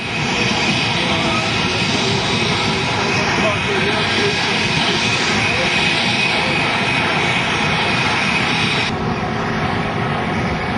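A small airplane's engine powers down near houses. Its loud, continuous droning roar holds steady, then thins and eases near the end, with faint voices mixed in.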